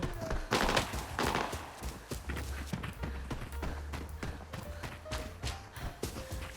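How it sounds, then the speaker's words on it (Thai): Gunfire from a computer-controlled bot in the video game Arena Breakout, heard as a dense run of sharp repeated shots, loud and close, mixed with other in-game noise and no talk. "เมื่อกี้ก็เสียงปืนบอดนี่"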